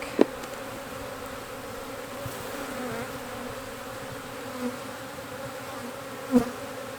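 Honey bees buzz as a steady, dense hum inside an Apimaye hive during a split, with a few brief clicks and bumps from handling the hive.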